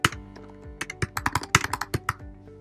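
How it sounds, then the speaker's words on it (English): Typing on a computer keyboard: a quick, irregular run of close, crisp key clicks and thunks, slow at first and then clustering in fast bursts, with no talking. "the video pauses as I type."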